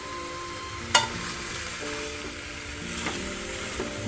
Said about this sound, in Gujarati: મસ્ત પાંચથી સાત મિનિટ ઘીમાં સાંતળવાના છે